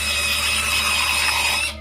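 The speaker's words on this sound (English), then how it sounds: "They drill into your tooth," A power drill used in a root canal procedure on a tooth gives a steady, high-pitched whine that holds continuously, then cuts off at the end.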